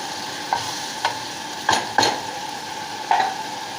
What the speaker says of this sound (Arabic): ونحمس نقبض الجدر ونتركه الى ان ينحمسون شوية ويذبلون.